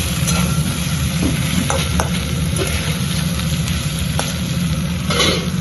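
Bitter gourd and prawns frying in mustard paste, stirred steadily in a pan, with a constant close sizzle and occasional soft clicks of a spatula throughout.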